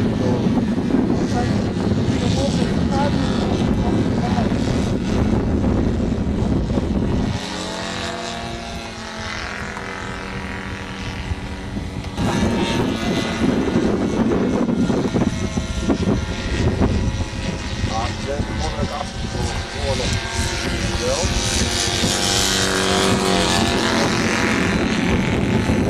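A Fokker Dr.I triplane's engine runs loud and rough at close range, dipping briefly and then building again, as people talk over the noise.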